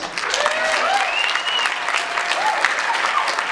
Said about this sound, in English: he's going to give him a round of applause